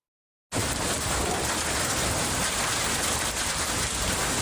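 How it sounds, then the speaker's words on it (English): Heavy storm rain in Tempe, Arizona, driven by fierce winds, starts abruptly after a moment of silence and then roars as a loud, unbroken wall of downpour. "Look at that rain. Fierce winds, heavy rain pounded this area"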